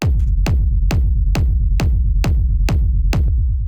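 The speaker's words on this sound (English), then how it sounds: "the first sound we have here is this kick, which sounds like this." A big, punchy, hard-hitting industrial techno kick drum sample, eight loud isolated thumps at a steady tempo of roughly 135 BPM, each with a sharp click attack and a deep booming decay, heard alone.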